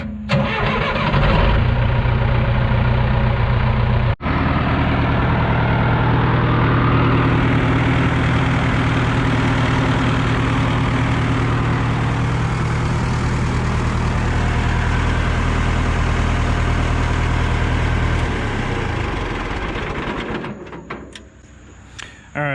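A John Deere 450 HLR crawler engine cranks and fires up, then settles into a loud, steady diesel idle close by, running alone for most of the stretch before cutting off near the end.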